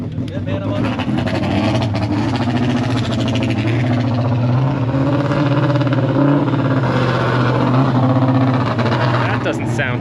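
A modified side-by-side UTV engine fitted with an MSC clutch kit and tune idles loud and steady with a deep, throaty rumble, swelling slightly in places, while people talk nearby over it at a show and shine event.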